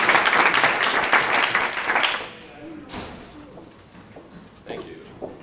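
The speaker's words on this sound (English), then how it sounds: "let's give a big round of applause" Audience applause at an office interview event, a dense burst of clapping that fades away after about two seconds, followed by quieter room sounds and a few scattered claps.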